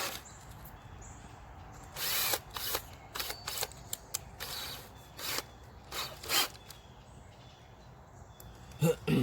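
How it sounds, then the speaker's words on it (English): Short bursts of a power drill whirring in repeated spurts, close by, with pauses and handling noise between them. "I'm going to drill one hole and then go ahead and put the screw in."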